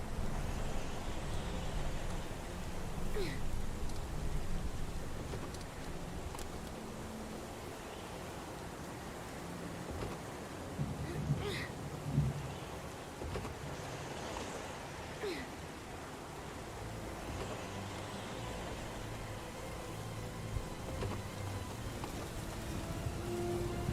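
Rain in the video game Heavy Rain, a steady, soft hiss of falling rain on surfaces that stays faint and continuous throughout, with occasional small knocks and noises over it.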